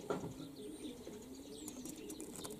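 Pigeons coo and chirp outdoors at the end of winter, a soft, steady murmur of calls at moderate distance with faint bird tweets above.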